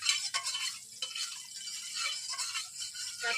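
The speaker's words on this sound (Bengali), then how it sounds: "তেল দিয়ে চারিদিকে ঘুরে মাখিয়ে নিচ্ছি কড়াইটাকে ভালোভাবে," A brush spreads oil around a hot wok (kadai), making a soft, continuous hissy scraping and light rattling close by, fairly quiet.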